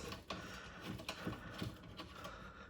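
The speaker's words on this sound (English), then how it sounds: "we take the window bolt here and we just screw it back on" Faint, irregular mechanical clicks and light metallic ticks as a window bolt is turned by hand onto a 1998-2002 Toyota Corolla window regulator, close up and quiet, with no talking.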